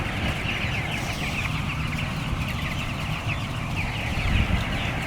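A broiler house packed with about 15,000 chickens gives a steady dense wall of clucking and murmuring, loud and continuous with no pauses.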